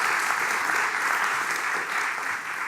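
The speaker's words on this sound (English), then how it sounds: "Applause." An audience claps steadily at an evening talk on Dutch graphic design culture, a dense, even wash of applause that fades slightly toward the end.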